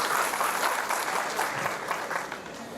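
Loud, sustained applause from a crowd at a BJP membership drive rally in Nizamabad, a dense steady wash of clapping filling the whole stretch without a break.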